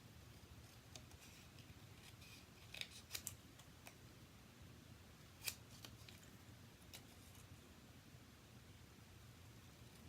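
Scissors snip through paper card pieces in a few quiet, scattered cuts against a steady low background hum, with no talking.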